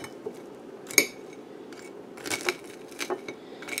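Crispy fried chicken substitute being handled, giving crackling crunches and a sharp clink near one second, then a cluster of crisp rustling crackles, close and moderately quiet with no talking.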